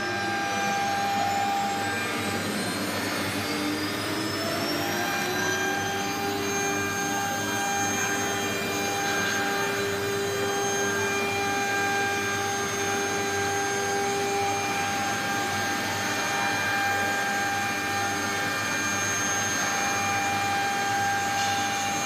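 CNC cylinder engraving milling machine, model CC-MS3020K12, with its spindle running: a steady, loud mechanical whine with sustained high tonal lines and a broad hum, holding constant throughout without talk.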